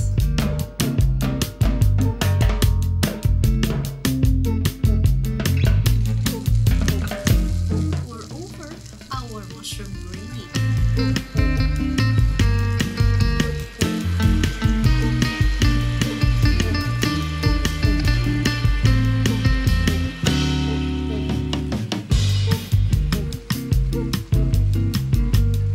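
Cooked burger patties sizzling on a hot sizzling plate, a loud, steady, close frying hiss with crackling spatter that continues throughout with only brief dips.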